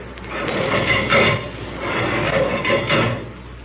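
Main metal door of a spaceship opening as a radio drama sound effect, heard as a series of clattering, scraping mechanical knocks in two bursts, close and moderately loud.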